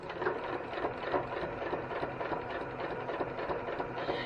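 A sewing machine runs steadily as it stitches quilt pieces together, its rapid, even mechanical chatter fairly soft and continuous throughout.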